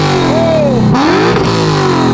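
A 450 hp Lexus ISF V8 engine revs loudly up and back down, a close, powerful sweep of rising then falling pitch that settles toward idle.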